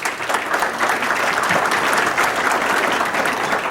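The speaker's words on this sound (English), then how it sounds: "Let's give them a round of applause" A gala crowd at a book launch claps for the facility's co-owners, a loud, continuous wash of applause filling the room with no voices above it.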